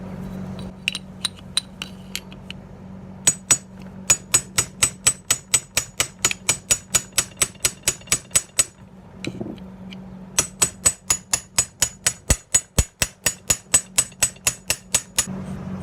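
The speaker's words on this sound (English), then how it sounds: "Using my trusty wedge again. Keep on hitting it here, making a little bit of progress." Repeated hammer blows on a steel wedge driven against a seized nut on a bumper car's front axle, sharp metallic clinks in steady bursts, close and loud, alone with no talk.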